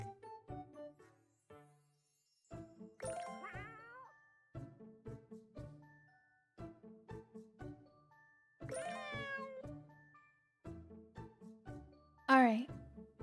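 Cartoon cat meows from a cat-finding video game: several short, bright mews and one louder, rising meow near the end, mixed with light chimes and soft clicks, with intermittent talking.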